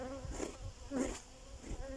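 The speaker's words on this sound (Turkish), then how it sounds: "Arılar kokuya tepki veriyor arkadaşlar." Dense, continuous buzzing of many honeybees close by at a hive, rising and falling slightly in loudness.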